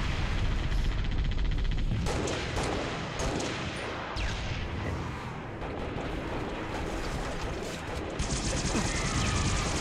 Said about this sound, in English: I'm just gonna keep firing and hope I hit.